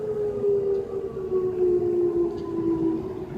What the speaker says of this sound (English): Well, there goes the siren test.